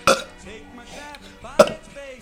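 Two short, loud burps, one at the start and another near the end, separated by quieter throaty vocal sounds.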